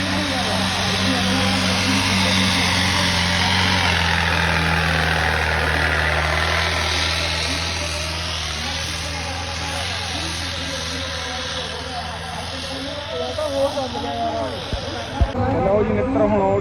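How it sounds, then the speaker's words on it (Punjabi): A tractor engine rumbles steadily, loud and close, at a trolley-pulling contest in Nandpur Kalour, Fatehgarh Sahib, its low drone shifting partway through, with a few knocks near the end. "ਚੱਲ ਗਿਆ ਟਰੈਕਟਰ"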